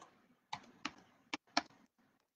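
Four or five separate clicks are tapped on a computer keyboard as a field name is entered in a database program, each keystroke sharp and distinct in a quiet room with short pauses between them.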